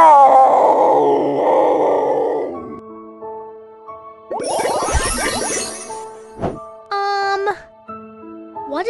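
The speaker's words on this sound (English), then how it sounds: "Leopard!" Leopard growling in a children's wild animals learning game app, a rough rumbling growl over steady background music, followed by a short burst of sound and chiming effects.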